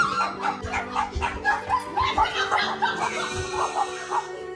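A dog barks and yips repeatedly in quick bursts, close by, mixed with whimpering sounds over a low background.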